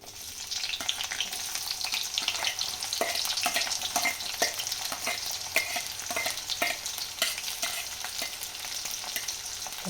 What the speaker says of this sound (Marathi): कांदा टाकते तळायला आता